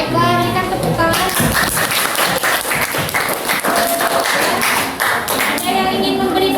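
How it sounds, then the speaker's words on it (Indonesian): Classroom applause for a student group after a biology presentation on ferns; a short, loud burst of many hands clapping close by, starting abruptly and fading near the end, with a voice before and after. "Baiklah, berikan tepuk tangan."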